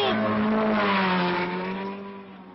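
A Renault 8 Gordini race car engine drones loudly with a steady, slowly falling pitch, gradually fading as the car pulls away.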